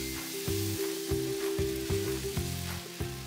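Upvas dosa batter made from varai sizzles loudly on a nonstick tawa heated over high flame, a close, continuous frying hiss with faint rhythmic scraping and no voices.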